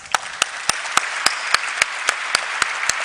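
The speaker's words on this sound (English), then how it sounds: "Let's have a round of applause." Applause at a stock exchange listing ceremony for Aditya Birla Sun Life AMC, a close crowd clapping in a steady wash with regular sharp beats cutting through, continuing throughout.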